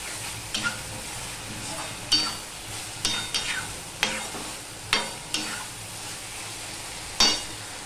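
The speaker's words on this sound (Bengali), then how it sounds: "একটুখানি কষিয়ে নেব, বেশ সুন্দর গন্ধ বেরোচ্ছে।" Okra and potatoes sautéing dry in a hot pan for a vegetarian bhindi dish, with a steady sizzle and a series of sharp, close scrapes and stirs from the spatula at irregular intervals.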